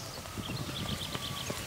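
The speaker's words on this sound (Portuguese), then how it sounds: "Netuno Aguilar, lindo cavalo tordilho, muito manso, macio, cavalo castrado, 3 anos de idade" Hooves of a grey three-year-old gelded Lusitano horse clop at a steady walk, close and distinct, with even, regular beats and no talking.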